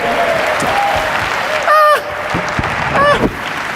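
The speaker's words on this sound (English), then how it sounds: "Clap it up really big." A seated seminar audience claps loudly on cue, a dense steady patter of hands with two brief whooping or honking shouts rising above it.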